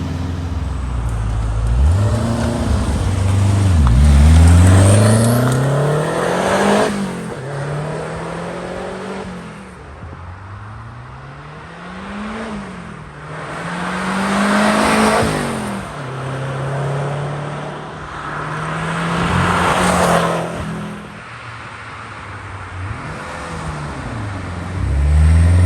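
A 1981 Renault R5 Turbo engine revs up and down through repeated acceleration and gear changes, loud and close from inside the car, with rising and falling pitch sweeps over roughly half a minute.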